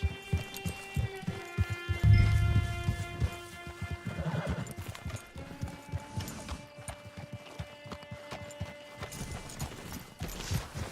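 Horse hooves clip-clop in a steady walking rhythm in Red Dead Redemption II, joined by a clear whinny early on, with faint game ambience and a low hum underneath.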